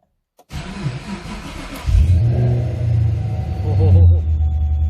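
A Chevrolet Camaro SS V8 fitted with a ProCharger supercharger cranks, fires with a rumbling catch and settles into a loud, close, lumpy idle, with a slight rev toward the end.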